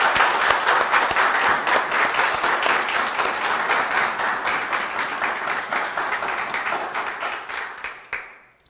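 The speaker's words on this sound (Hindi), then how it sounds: "तृप्ति के लिए एक बार फिर से वो ताड़ियों की शानदार गड़गड़ाहट" Sustained, dense audience applause for Tripti Jain, a Rajasthan judicial exam success, at a coaching event, loud and steady for about eight seconds before tapering off abruptly at the end.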